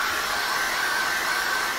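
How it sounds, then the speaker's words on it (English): A hair dryer blows hot air over freshly applied acrylic paint, a loud, steady, close whooshing whine that holds constant throughout. "you could just use what I'm going to use, and that's a hairdryer to dry it"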